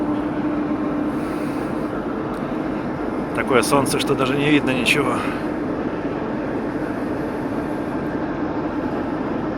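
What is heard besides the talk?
TEP70 diesel locomotive engine running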